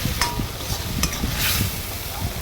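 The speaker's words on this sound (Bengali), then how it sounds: "আমি এবার হয়ে যাওয়া খিচুড়ির কিছুটা অংশ দিয়ে দিচ্ছি ফোড়নটার সাথে মিশিয়ে নেওয়ার জন্য ভালো করে" Cooked khichuri stirred into a ginger tempering in a hot pan, with soft scraping and a few sharp utensil knocks against the pan over a low, steady sizzle.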